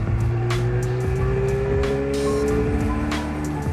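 A 1959 Goggomobile, a tiny open-top two-seater, drives along with its small engine buzzing steadily, a busy rattling drone with shifting tones and brief sharp clicks throughout, close and fairly loud.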